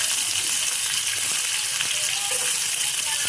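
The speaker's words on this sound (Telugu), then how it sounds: "ఆనియన్స్ అయితే వేసుకుంటున్నా, అలాగనే గ్రీన్ చిల్లీ కూడా వేసుకుంటున్నా." Onions and green chillies frying in hot oil in a pan, giving a close, steady hiss and crackle of sizzling with no talking.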